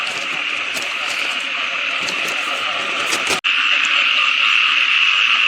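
Many frogs croak at once in a dense, unbroken chorus mixed with insect buzz. The sound is loud and close, with a brief cut partway through before the chorus resumes just as strong.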